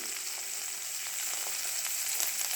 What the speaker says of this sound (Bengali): দেখো ফ্রাই হচ্ছে